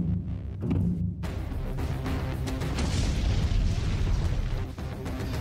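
A deep, sustained explosive roar with heavy low rumble, continuing for several seconds after a brief quieter start.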